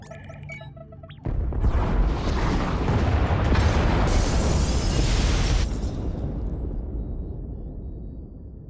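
Massive explosion as the pod bays are destroyed in the Star Wars: The Old Republic game: a sudden loud boom that bursts into a sustained roaring rumble for several seconds before slowly fading, with no voices over it.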